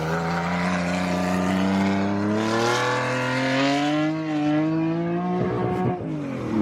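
A race car's loud engine roars and climbs steadily in pitch as it launches off the line at Bonneville Speed Week, droning continuously with a shift near the end.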